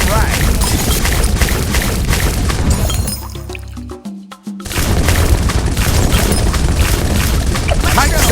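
Turbo damage laser bombs burst in Bloons TD 6, a dense, loud barrage of booming blasts and shattering crashes that briefly drops out into a low rumble before the pounding resumes.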